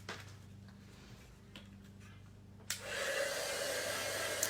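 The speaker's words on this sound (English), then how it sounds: "So we're just gonna let the heat tool heat up." A heat embossing tool clicks on after a quiet stretch and blows with a steady, loud hair-dryer-like whoosh over colored cardstock, continuing to the end.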